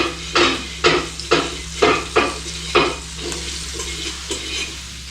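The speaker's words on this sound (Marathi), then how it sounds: "इकडे सुरमई फ्राय होते बघा एकदम व्यवस्थित" Surmai fish fries in a pan with a steady sizzle, while a utensil scrapes and stirs in a series of sharp, rhythmic strokes close by, about six pronounced pushes then lighter ones.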